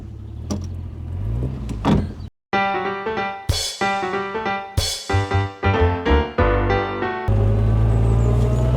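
A 1930s saloon car doing a three-point turn: the engine rumbles and revs in short rising bursts as gears change, with a whining, slightly noisy first gear. The sound is close and loud, broken by a brief pause, then steadier running.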